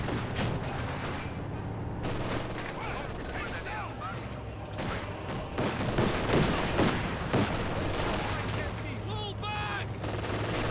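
Infantry squads exchange fire in the video game Company of Heroes 2: bursts of rifle and machine-gun fire crackle repeatedly at mid distance over a constant battle rumble, with occasional heavier booms, while a voice talks over the action.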